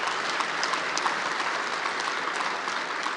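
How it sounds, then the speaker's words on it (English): An audience at a Keir Starmer speech to the GMB Union Congress gives sustained, dense applause from a large hall, steady and even throughout, with no speech over it. "That's what people clapped for"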